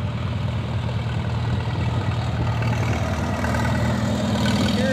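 An old Farmall H tractor idles at a vintage engine show, a steady low rumble holding close and even for the whole stretch with no talk over it.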